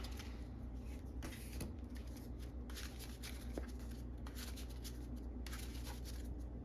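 A deck of game cards being shuffled by hand at a tabletop, producing soft, quiet riffling bursts at irregular intervals over low background noise.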